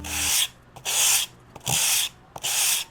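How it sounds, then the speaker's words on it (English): A styrofoam medieval weapon is smoothed by hand in four rhythmic bursts of dry, hissing rubbing, each about half a second long with short pauses between them, heard loud and close. "I'm thinking I'll do the rest of the smoothing by hand."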